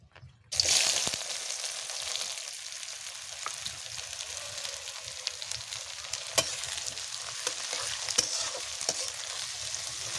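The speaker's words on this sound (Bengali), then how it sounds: "তেল গরম হয়ে গেছে, আমি এখানে পেঁয়াজ কুচিয়ে রেখেছিলাম প্রায় 6-7টা মতো, তো আমি এগুলো দিয়ে দেব।" About six or seven chopped onions hit hot oil and burst into a loud, steady sizzle that continues close by for the rest of the clip, broken by small crackles and occasional stirring sounds, with no talking.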